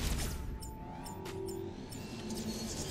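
In the Metroid Dread video game, the Omega Cannon fires as a sustained, roaring energy blast with a humming tone, steady and dense for several seconds, and no talking over it.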